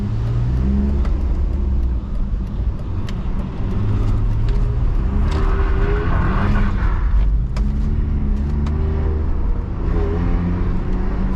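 A BMW E46 320i drifting on a track roars loudly and continuously as its engine revs rise and fall in second gear, heard from inside the car with road and tire noise.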